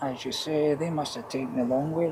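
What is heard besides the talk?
No everyday noise stands out behind the speech.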